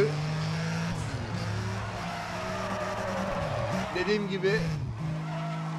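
Tires skid and squeal as a car drifts in the racing game Need for Speed ProStreet, with an engine droning steadily throughout and someone talking over it.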